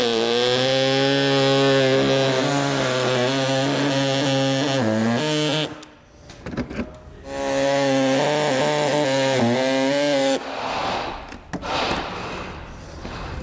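A power tool saws through the plastic bumper of a 2022 Buick Encore GX to fit a base plate, a loud, steady high-pitched whine cutting in long passes with short pauses and bursts between them.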